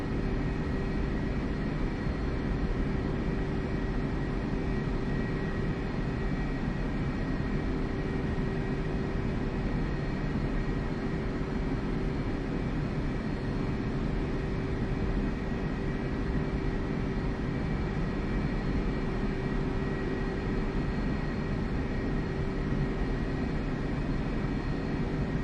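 A jet taxis to parking in the DCS flight simulator game, heard as a constant, loud engine drone with a steady whine that holds unchanged from start to finish.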